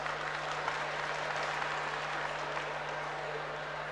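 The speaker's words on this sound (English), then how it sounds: "Give me a round of applause" An audience at a private university convocation claps for an ex-governor, a dense, even wash of applause heard from a distance with a steady electrical hum beneath.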